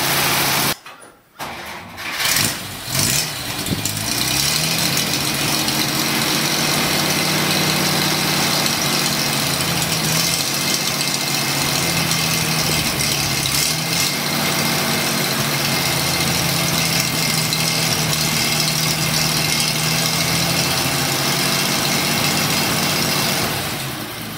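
An old 1947 Dodge W Series truck engine cranks and starts, then settles into a loud, steady idle with a rough mechanical rumble that continues throughout.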